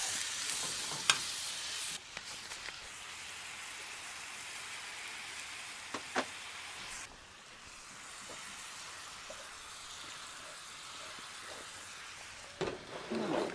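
Onions and browning meat are stirred in a pot for a hearty hodgepodge soup. A steady sizzling hiss runs throughout, broken by a few spoon scrapes and a brief dip midway, with no talking.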